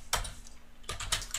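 Quick bursts of typing on a computer keyboard while coding a React app, a couple of short clustered keystroke runs separated by a brief pause, close and fairly quiet.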